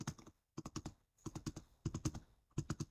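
Fingers type on a computer keyboard, entering a custom field name in Excel, with quick close clusters of four to six keystrokes separated by short pauses, crisp and distinct with no voice.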